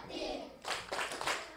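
Fifth-grade children in a classroom clap in rhythm during a chant about Surah At-Tiin, bursts of group clapping mixed with their voices, fairly close.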